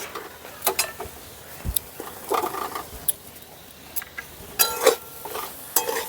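Fried potatoes tipped into tomato masala in a pan and stirred, with scraping spoon strokes, clinks of utensils and occasional soft thumps over a light sizzle.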